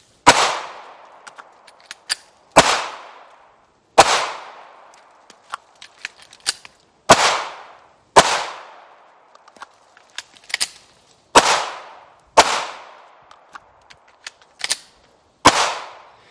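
Pistol shots ring out at the range during slide rack and slide release drills, about eight sharp, loud reports spaced a second or two apart, with fainter clicks and handling noises between them.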